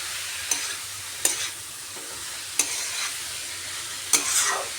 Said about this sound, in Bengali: সব মশলা দিয়ে ভালো করে মিশিয়ে নিতে হবে।